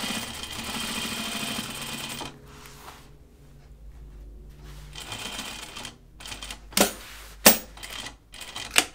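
A sewing machine stitches a jeans pocket, running in a steady close burr for about two seconds, then pausing and sounding short stop-start bursts and single stitches, with a few sharp clicks near the end.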